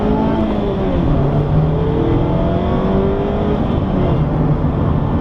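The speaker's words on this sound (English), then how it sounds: "Going into third gear, it's right at 50 miles an hour." Mazda MX-5 Miata RF Grand Touring 2022 with a manual gearbox accelerating through the gears into third, a loud, steady interior engine drone rising in pitch, with no talking.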